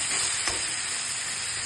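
Mustard seeds, tomato and potato fry in a pan with a steady close hiss and sizzle, one brief soft stir midway, no voices.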